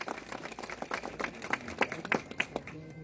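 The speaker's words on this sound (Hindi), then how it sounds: "जोरदार तालियां हमारी बहन के लिए बजा दीजिए" Applause for a woman who has just sung, at a village panchayat gathering in Solan, with scattered, uneven claps from a modest crowd and faint voices underneath.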